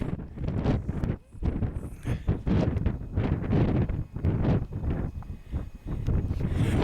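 Gusty wind on an open hillside track in the Peak District buffets the microphone in loud, rumbling surges with brief lulls between, continuous and close throughout.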